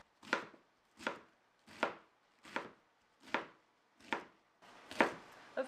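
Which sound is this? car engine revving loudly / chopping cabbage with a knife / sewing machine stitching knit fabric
chopping cabbage with a knife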